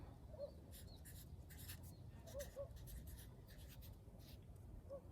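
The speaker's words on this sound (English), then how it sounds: "Writing the permanent marker sucks." A permanent marker squeaks and scratches across a surface in short, irregular strokes, quiet and close, with pauses between the writing bursts.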